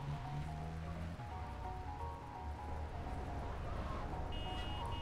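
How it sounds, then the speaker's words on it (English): Rain falls steadily in Grand Theft Auto: Vice City, a dense, even wash of noise under layered tonal music-like hums and a low engine rumble, with no talking. "It's raining, dude."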